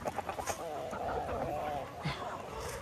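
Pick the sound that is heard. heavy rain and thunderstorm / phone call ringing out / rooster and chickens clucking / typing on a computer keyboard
rooster and chickens clucking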